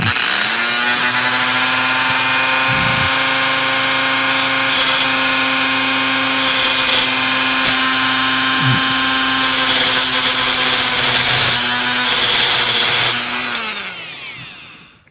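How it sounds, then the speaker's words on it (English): Dremel rotary tool grinding a replacement volume control part for a 1961 Zenith 500H radio, a loud, steady high-pitched whine with brief dips in load, then spinning down at the end. "So I've got the Dremel here."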